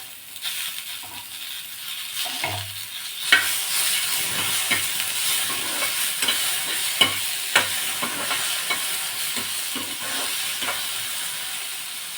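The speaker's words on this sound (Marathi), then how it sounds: "असे तुकडे करून आपण या कांद्यामध्ये दोन मिनटं भाजून घेणार आहोत" Tomato pieces sautéing with onions in a hot pan, a continuous close sizzle broken by irregular scraping and stirring clicks from a spoon, steady in level throughout.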